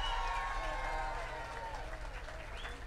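Applause from a crowd for the musicians on stage at a live cumbia show in a restaurant, steady dense clapping heard from a distance under a musical tone.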